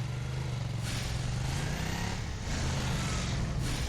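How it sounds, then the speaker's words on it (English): Motorcycle engine in the video game Ninja Blade, a steady, fairly faint drone with mild surges of revving as the bike flies through the air. "I don't think I've ever seen him ride a motorcycle in midair across debris, across other vehicles."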